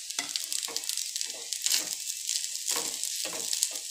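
Cooked rice fried with ghee in a pan, a steady close hiss of sizzling oil broken by repeated soft stirring scrapes in an uneven rhythm, with no voices.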